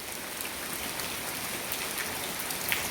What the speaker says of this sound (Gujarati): ઝરમર ઝરમર મોટે મોટે સાટે આવે ભાઈ